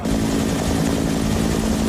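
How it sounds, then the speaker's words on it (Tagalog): Philippine Air Force attack helicopters flying over the dense jungle of Patikul, Sulu, as a loud, continuous rotor and engine drone with a steady hum and no break throughout. "Huminera na sa himpapawid ang mga attack helicopter ng Philippine Air Force nang marating namin ang ibabaw ng masukal na kagubatan ng Patikul, Sulu"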